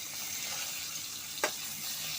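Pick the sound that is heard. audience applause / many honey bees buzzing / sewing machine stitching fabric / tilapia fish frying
tilapia fish frying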